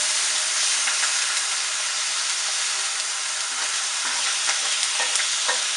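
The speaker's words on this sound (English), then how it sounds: "I'm gonna let it sear for about 2-3 minutes" Whole fish and tomatoes searing in a hot pan give a loud, steady sizzle and hiss, with occasional crackles and pops and no voices.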